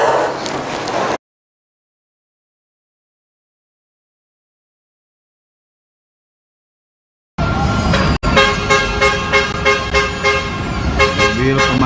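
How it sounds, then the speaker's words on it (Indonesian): Fire engines pull up at Bandung City Hall during a building fire, horns honking loudly. A short burst opens, silence follows, then a dense stretch of repeated honks and engine noise. "Mobil pemadam kebakaran pertama sudah sampai."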